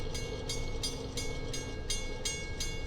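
A Long Island Rail Road train eases out of a station in a quick reverse move, its wheels clicking over rail joints in a steady rhythmic beat beneath a continuous rumble, heard fairly close with no voices.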